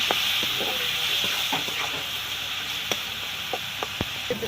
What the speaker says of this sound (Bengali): মশলাটা ভালো করে কষে নেব।